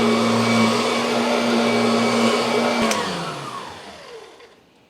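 Kirby direct air upright vacuum cleaner running on carpet, a loud steady motor whine and airflow that winds down and fades out after about three seconds.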